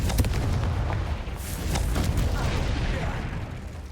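Confringo blasting spell explosions in a Harry Potter video game, a string of loud booming blasts and crackling impacts layered over a deep continuous rumble, with faint voices mixed in.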